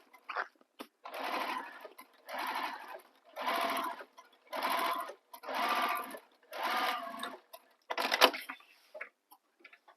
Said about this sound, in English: top stitch across using the seam allowance that was given in the pattern